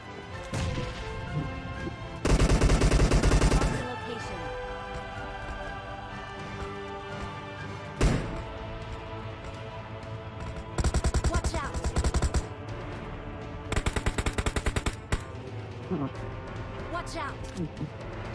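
Gunfire in PUBG Mobile comes in several loud, sharp bursts of rapid shots, separated by quieter stretches, while someone narrates throughout.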